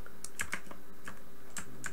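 Clicky keystrokes on a loud mechanical computer keyboard, a quick irregular burst of sharp close taps with no talking.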